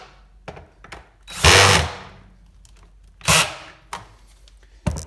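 Small screws on a vacuum's drive belt cover being tightened with a ratchet driver, heard as a few separate sharp ratcheting clicks and bursts, two of them longer, against a quiet background.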